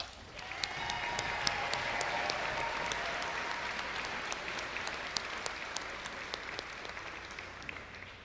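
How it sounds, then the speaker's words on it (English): Sustained applause from a large audience at a Keystone College commencement ceremony, steady dense clapping with a few sharper claps standing out, filling the whole stretch at moderate loudness with no talk over it. "One more round of applause."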